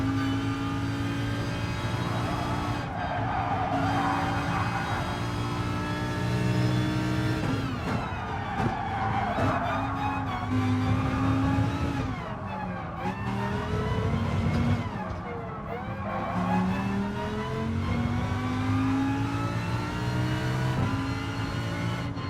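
A Corvette race car in Gran Turismo Sport races on track with a steady roaring engine note that rises and dips through gear changes and corners, with brief tyre-skid sweeps mixed in, continuous throughout and no voices.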